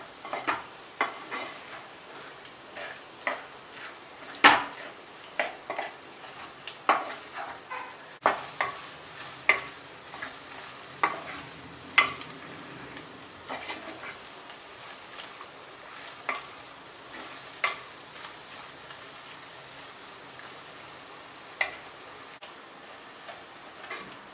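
Kerala-style pork masala roasting in a pan, a low continuous sizzle broken by regular clacks and scrapes of a spoon stirring against the pan, moderately close, no voices.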